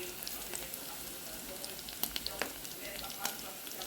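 Food fries quietly in a pan on a home cooking fire: a soft, continuous sizzle with scattered small pops and crackles, heard alone at low level.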